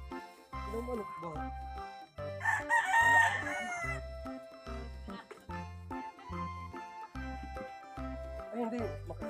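A rooster lets out one loud, drawn-out crow partway through, standing out over a steady, rhythmic musical beat and other background sound.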